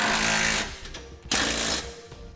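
A power tool tightens trailer hitch bolts on a 2017 Acura RDX, two loud rattling bursts of impact hammering separated by a brief lull, up close with no talk.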